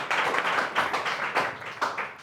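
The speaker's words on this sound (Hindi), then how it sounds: "एक बार जोरदार ताली होनी चाहिए।" Applause from an audience at an event for visually impaired chess players in Udaipur, with steady, dense clapping from many hands filling a short burst.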